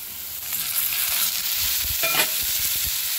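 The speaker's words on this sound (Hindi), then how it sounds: "अभी इसको अच्छे से भूनेंगे जब तक अच्छे से इसका कच्चा स्मेल ना चले जाए" Masala and tomato stir-fried in a pan for butter dal palak, a steady close sizzle with scraping stirs and a brief louder spatter midway.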